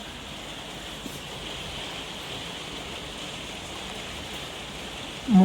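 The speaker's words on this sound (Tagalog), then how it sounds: "Umuulan na naman." Steady, even hiss of rain falling, continuous and fairly loud throughout, with a brief thump right at the end.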